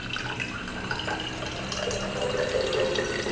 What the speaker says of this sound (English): I am pouring water in the bottle.